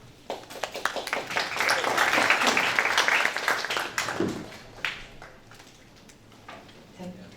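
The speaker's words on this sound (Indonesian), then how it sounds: "kita beri tepuk tangan yang meriah sekali lagi" An audience at a seminar and book discussion claps after the talk, a broad wash of applause that swells for a few seconds and then thins out to scattered claps, with some voices in the room.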